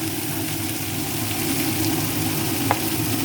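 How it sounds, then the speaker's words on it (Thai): Fish sizzles in hot oil in a pan, a steady, close frying hiss that continues throughout with no pause. "ทอดปลานะคะ"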